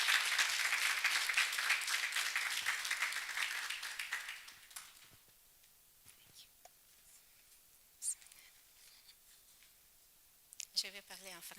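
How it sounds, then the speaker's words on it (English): Applause from an audience at a global health leadership fellowship graduation ceremony, loud and dense for about four seconds, then fading out, followed by near silence with a few scattered claps and faint speech. "Big round of applause."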